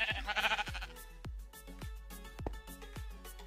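Minecraft sheep bleat several times in quick succession, short, clear synthetic baa calls spaced about half a second apart, with no talking.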